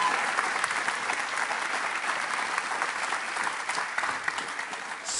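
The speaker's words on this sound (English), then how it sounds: "Give them all a round of applause." A studio audience at a live evening show claps in sustained, dense applause, loud and even, with no talk over it.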